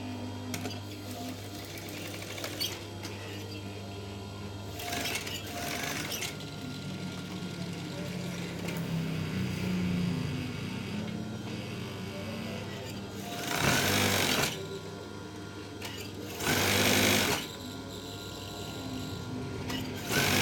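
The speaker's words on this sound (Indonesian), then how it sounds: "Lalu kita jahit." A sewing machine stitches swag curtain fabric with a steady close mechanical hum and rattle, broken by a few louder brief bursts of faster stitching, and no voices.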